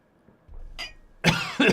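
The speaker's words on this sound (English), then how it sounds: "I'm definitely getting a cough." A few sharp, close coughs, a soft one followed by two louder barking bursts, from a man during a live football watchalong.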